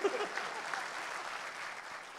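Spontaneous audience applause breaks out at a panel discussion event, a continuous, fairly soft patter of many hands that holds steady from start to finish.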